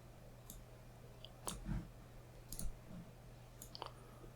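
Faint, sparse clicks of a computer mouse, a few separate presses spread out over a quiet background with a steady low hum.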